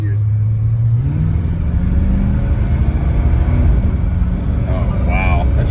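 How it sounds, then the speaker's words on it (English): An LS-swapped square-body pickup truck revs and accelerates through its gears while driving, the engine note rising, dropping at a shift and climbing again, loud and close, with a few excited voices near the end. "All right, listen to the gears."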